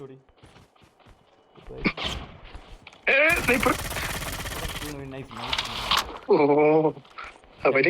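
Bursts of rapid gunfire from the Call of Duty Mobile video game crackle loudly in several volleys, interleaved with people talking.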